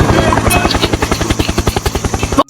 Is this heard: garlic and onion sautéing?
no